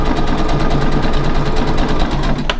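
A sewing machine stitches fabric for a backpack in a fast, steady mechanical whir with a rapid even rhythm, close and loud, ending in a brief click.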